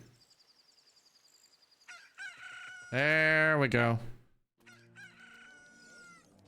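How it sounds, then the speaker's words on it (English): Chickens squawk in the Ocarina of Time video game: a rapid ticking sound, then a loud crowing squawk followed by a burst of clucks, all close and clear, with a brief spoken remark in the middle. "Insert chicken noises here."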